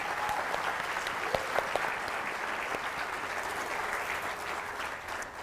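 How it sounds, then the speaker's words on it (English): An audience at an international cabaret show bursts into sustained applause, a dense, even wash of clapping hands that holds steady throughout and tapers slightly at the end. "let's get a round of applause for everyone."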